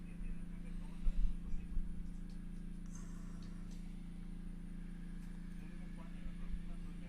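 Horse hooves clip-clop over a novice cross-country eventing course, sounding faint and distant. A few soft thuds stand out early, all beneath a steady background hum and a commentator's voice.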